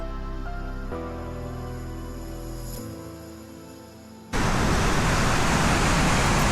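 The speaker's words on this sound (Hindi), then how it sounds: "तो फाइनली पहुंच चुके हैं हम गौचिंडा वाटरफॉल में" Gauchinda waterfall in the mountains, a dense roaring rush of falling water that suddenly swells loud and close after a quieter droning stretch.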